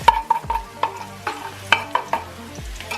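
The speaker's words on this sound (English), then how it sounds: "And now you can add the chopped garlic." Chopped garlic and onion sizzle in a pan while a utensil stirs, giving sharp scraping clicks at irregular intervals over a soft frying hiss, close by with no talking.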